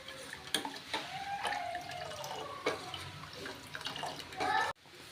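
Water poured into a pot while cooking ragi flour porridge, a close, splashing gush with gurgles and drips that stops abruptly near the end.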